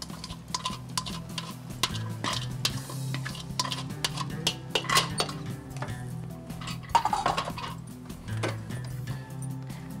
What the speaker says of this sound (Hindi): धनिया पुदीना और हरी मिर्चों वाले राइस जो थे वो मैंने इसमें डाल के